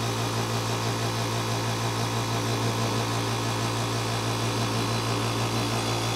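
A VEVOR air compressor running steadily with an even, low mechanical hum and motor drone, unchanged throughout, with no talking.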